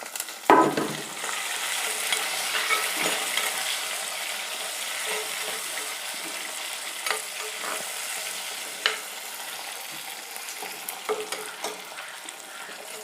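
Tomato goes into ginger frying in a pan, giving a steady, close hiss of sizzling oil throughout, punctuated by scrapes and knocks of a spoon stirring.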